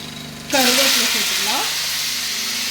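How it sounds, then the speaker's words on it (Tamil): Onions fry in a pan with a loud, steady sizzle that jumps up suddenly and then holds, while a utensil scrapes and stirs under it, close by and without speech. "வெங்காயம் சேர்த்துட்டு நல்லா மிக்ஸ் பண்ணிக்கலாம்"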